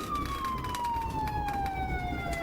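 A police car siren wails in a steady, slowly falling tone over road noise, clear and moderately close, with no talking.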